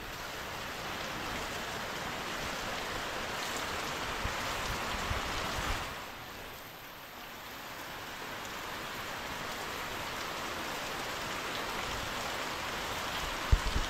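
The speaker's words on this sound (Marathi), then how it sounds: "कोकणात पाऊस चालू आहे." Heavy monsoon rain pours steadily behind village houses in Konkan, a dense, constant hiss of downpour that dips briefly before returning at full strength.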